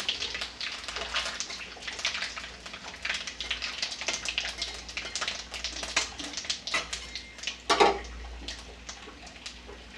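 Spices crackling and spluttering in hot oil for a tadka while cooking soyabean kofta curry: dense, continuous sizzle with sharp pops, close and fairly quiet, with no voices.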